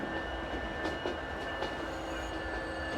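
Trains roll along the tracks in the Transport Fever 2 railway simulation game on a Marias Pass route, a steady low rumble with faint wheel squeal and light rhythmic clicks, no talking.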